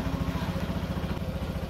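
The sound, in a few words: Yamaha NMAX motorcycle engine started by remote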